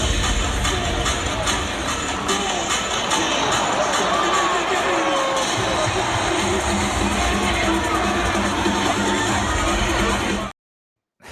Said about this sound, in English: They had the lights going in the crowd, the air horns were blowing, the place was getting fired up.